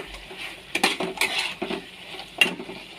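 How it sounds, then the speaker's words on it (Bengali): Pointed gourd being stir-fried in a pan, with scattered clinks and scrapes of a spatula against the metal and a soft sizzle underneath, close and fairly quiet. "আর এবার পটলগুলো দিয়ে দেবো, দিয়ে ভালো করে কষে নেব।"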